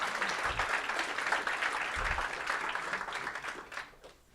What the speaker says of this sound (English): Great applause for our PR team who prepared it.